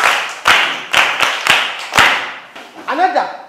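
A crowd of people claps in several sharp, loud bursts spaced about half a second apart, each fading quickly, before a voice speaks over the end.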